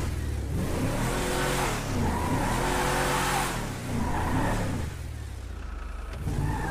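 Ford Endeavour SUV in GTA V driving at speed, a steady loud engine roar rising and falling through gear changes, with faint tire noise toward the end and no talking.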